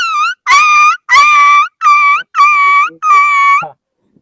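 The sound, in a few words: boy imitating a dog barking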